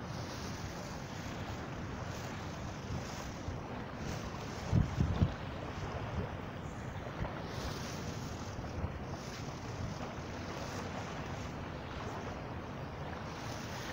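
Steady wind and ocean surf at Mamzar Beach in Dubai, a continuous broadband wash with wind buffeting the microphone, a brief louder gust or thump partway through, no voices.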